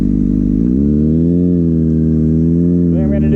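A Kawasaki ZX6R motorcycle engine runs steadily and loudly up close, with a smooth idle that rises slightly in pitch and then blips higher near the end.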